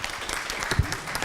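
An audience claps for a speaker being introduced at a talk on indigenizing relationships, a short burst of applause at moderate distance with no voices over it.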